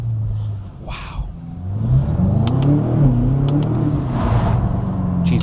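BMW G90 M5 fitted with a mid-pipe and intake, revving close by with a rumbling exhaust and a few crackling pops, while people talk over it.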